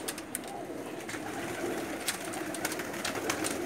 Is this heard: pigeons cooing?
yes